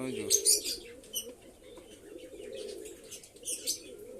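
Pigeons coo in a low, steady murmur nearby, with a few brief bursts of wing flapping and light chirps over the top, and no voices.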